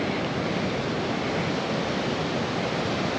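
Steady, dense roar of sea waves washing continuously, loud and close with no pauses or voices.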